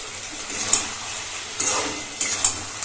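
A spoon stirs chicken vindaloo with halved green chillies in a pan, a few soft scraping strokes over a faint sizzle, close and quiet.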